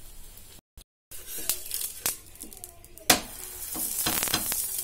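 Coconut obbattu, a sweet stuffed flatbread, frying in ghee on a dosa tawa: a steady close sizzle with a brief dropout near the start, scrape-like bursts as it is flipped, and a louder splash of crackle midway.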